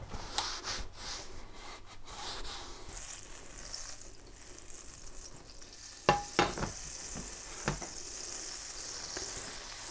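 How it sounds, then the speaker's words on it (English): Butter melting and sizzling in a frying pan on the heat, a faint steady crackle with a few sharper pops and stirring clatters partway through, no talking. "Let's put the pan on heat and some butter."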